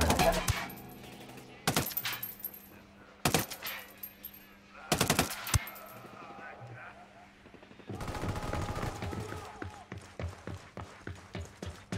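Gunfire in the video game Ghost Recon Wildlands comes as several loud, sharp single shots spaced a second or so apart, followed by a rapid rattling burst toward the end, close and prominent with no talk.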